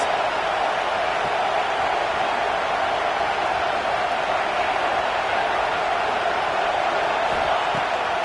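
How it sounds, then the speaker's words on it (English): A football stadium crowd in Oklahoma roars behind its defense, a dense, constant wall of cheering noise that stays loud and unbroken throughout. "Listen to this crowd just shaking the girders of this place trying to help their defense."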